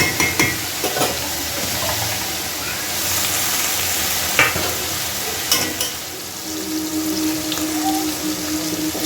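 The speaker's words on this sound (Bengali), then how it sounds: "সবজিটা একটু নুন দিয়ে ভাজবো ক্যাপসিকাম আর পেঁয়াজটা হয়ে গেছে" Capsicum and onion fry with salt in a hot pan, producing a steady, fairly loud sizzle broken by occasional scraping and clinking as the vegetables are stirred.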